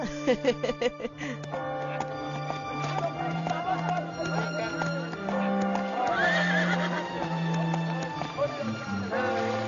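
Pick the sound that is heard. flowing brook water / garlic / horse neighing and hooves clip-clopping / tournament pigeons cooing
horse neighing and hooves clip-clopping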